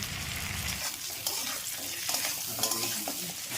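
A ground spice paste with turmeric, chilli, cumin and coriander is sautéed in a pan, close and loud, with a strong sizzle and repeated scraping strokes of a spatula over a few seconds.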